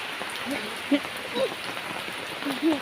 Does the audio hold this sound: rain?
yes